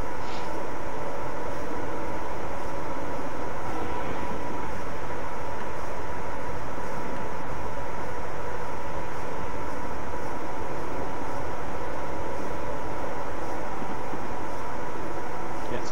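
Steady, continuous rumble of a train running on the West Coast Main Line over Shap in Train Simulator 2014, a dense unbroken drone of engine and wheel noise at even loudness throughout.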